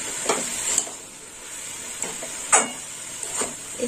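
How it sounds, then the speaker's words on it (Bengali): Ginger and mustard paste fry in a pan, giving a soft sizzle behind a few sharp spatula scrapes that come in irregular strokes, close and moderately loud. "এবার একটু নেড়ে চেড়ে নেব।"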